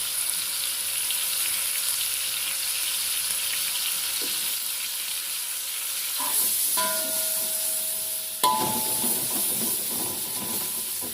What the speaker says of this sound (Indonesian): Kita tumis dulu sebentar sampai dia wangi ya, teroseng gitu.